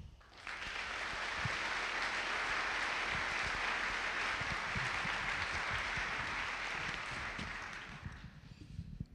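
Lecture audience breaking into sustained applause for a visiting professor, a dense wash of clapping that swells quickly, holds steady for several seconds, then tapers off.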